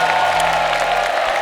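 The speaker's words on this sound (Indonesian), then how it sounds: "Tepuk tangan dulu sekali lagi buat Nyinyir." A studio audience on a talent show claps and cheers in a brief, loud, continuous wash of sound with a low hum running underneath.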